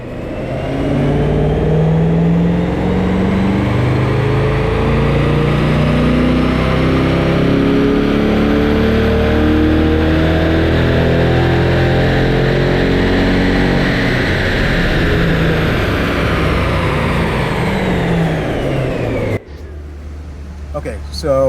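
A 2024 Corvette E-Ray on a dyno with traction and stability control switched off, its engine roaring loud and steady as revs climb and hold for about twenty seconds before cutting abruptly to a low idle.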